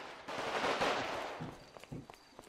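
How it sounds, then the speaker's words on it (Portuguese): Distant bursts of automatic gunfire in a GTA roleplay police operation, a rapid rattling volley that fades into a few scattered faint shots with light footsteps. "Olha os tiros aí, tem tiro comendo ainda."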